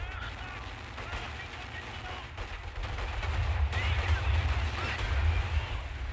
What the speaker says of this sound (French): J'ai le flak là qui tire dessus.